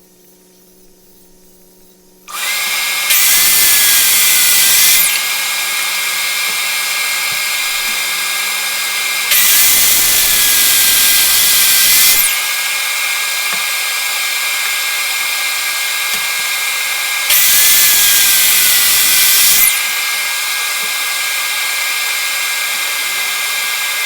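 A power saw cuts a board to a 39-inch length in three loud bursts, each lasting about two to three seconds, with a steady motor hum continuing between the cuts. No one speaks.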